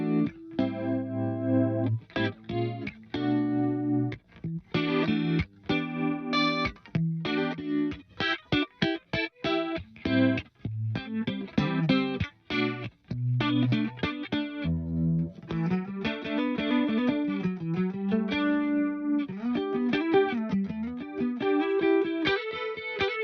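Electric guitar chords and melodic lines, neck humbucker with tone rolled down, played through the swirling, warbling Roto Trends rotary-speaker effect of a Digitech TSR 24S, continuous and fairly loud with no talking.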